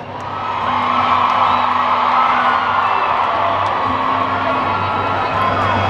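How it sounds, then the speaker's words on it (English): A rowdy crowd at a country concert cheers and whoops continuously, loud and dense from start to finish, with shouts rising out of a steady roar. "an extremely rowdy crowd"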